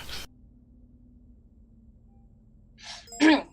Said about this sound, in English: That would be my phone when I get a text. Random R2-D2 is random.